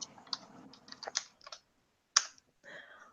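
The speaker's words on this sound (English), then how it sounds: "Sorry, I'm typing over here in the chat" Scattered keystrokes on a computer keyboard, light clicks in short uneven runs with a brief pause, close by and fairly quiet, with no talking.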